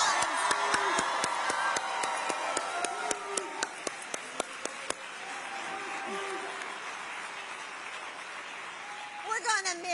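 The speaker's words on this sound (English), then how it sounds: "can we give Jason Kelce a round of applause" A campaign rally crowd breaks into loud, sustained applause with claps, cheers and whoops, fading after several seconds into murmuring, with brief voices and renewed clapping near the end.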